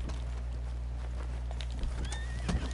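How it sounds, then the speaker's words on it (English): A horse in Red Dead Redemption 2 Online whinnies with a rising neigh, accompanied by clip-clop hoofbeats over a steady low hum; the sound is fairly quiet and crisp. "Let me get my horse out of here."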